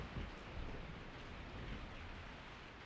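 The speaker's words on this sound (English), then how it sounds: "I woke up to the sound of falling rain." Falling rain in the video game Resident Evil 3 forms a steady, broad, soft hiss that continues without break at low volume.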